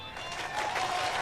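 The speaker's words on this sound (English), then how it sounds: "Oh, the crowd have gone wild." Video game crowd cheering and applauding in a continuous dense roar that swells slightly over a short moment, steady and fairly loud.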